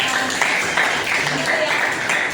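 Students in a chemistry classroom applaud a classmate, a continuous wash of clapping at fairly loud level with a few murmuring voices underneath.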